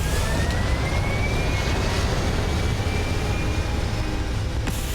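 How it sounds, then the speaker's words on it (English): Spaceship thrusters firing in a space video game, a dense continuous roaring rumble with a faint rising whine, loud and steady from start to end, no talking. "Thrusters firing."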